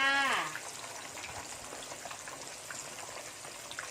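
Tilapia fish deep-frying in hot oil for a crispy finish, a steady dense sizzle and bubbling that runs throughout after a brief tonal sound at the start, with no talking.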